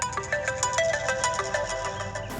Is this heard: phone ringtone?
yes